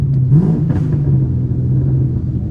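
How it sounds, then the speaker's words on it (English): A car engine gives a quick throttle blip while the driver rev-matches a downshift into first gear: a short rising rev over a low rumbling idle, then settling into a steady hum, close and moderately loud. "I blipped the throttle a little bit, which helps match the revs"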